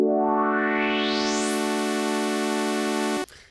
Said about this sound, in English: now let's do a filter sweep here.